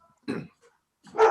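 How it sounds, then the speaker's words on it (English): A pet dog barks indoors, two short sharp barks about a second apart, moderately close and fairly quiet, with silence between them. "Sorry about that. That was my dog."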